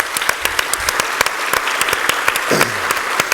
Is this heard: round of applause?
yes